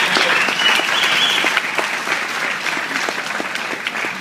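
An audience applauds during an evening awards-style speech, with loud, sustained, dense clapping throughout and no break.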